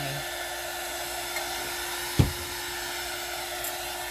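A hair dryer blows steadily to dry a craft project, a constant whooshing hum throughout with one short bump or knock partway through and no speech.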